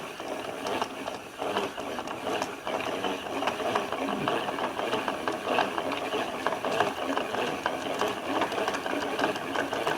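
A yarn ball winder with a small metal arm is cranked continuously, a close, busy ratcheting whir of spinning gears and clicking that holds a steady rhythm throughout.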